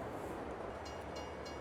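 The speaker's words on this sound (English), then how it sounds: "So that's the train finally here, we're just loading up." Freight train pulling in within Farming Simulator 22, a long string of about a dozen railcars arriving at a loading spot: a steady, dense rumble of rolling rail noise with faint hissing bursts, constant and fairly loud throughout.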